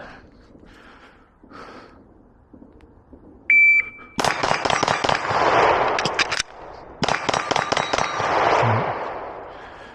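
Glock pistol fired in rapid strings of loud, sharp shots, a brief shot-timer beep first, then two bursts of closely spaced reports separated by a short gap for a reload.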